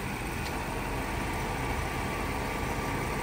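Mercedes-Benz 500E with a 5-liter four-cam V8 idling smoothly, a steady, even low rumble with a broad hiss on top, continuous and unchanging at close range.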